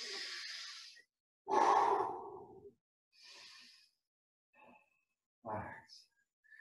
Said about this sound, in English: Five deep breaths.